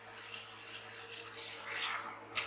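Water runs steadily into a pan of egg kofta gravy on the stove, a continuous close splashing hiss lasting a couple of seconds before it tapers off.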